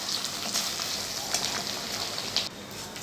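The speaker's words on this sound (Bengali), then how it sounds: "একটু আদা রসুনের পেস্ট দিয়ে দিলাম। এবার ভালো করে একটু কষিয়ে নেব।" Fried-golden onions with ginger-garlic paste sizzling steadily in a pan while being sautéed, a continuous crackling hiss with occasional stirring and no talk.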